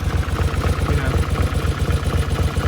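A 1979 Honda CX500 Custom motorcycle engine idles steadily after starting, a close, even low throb with a fast regular pulse and light mechanical clatter, running alone throughout.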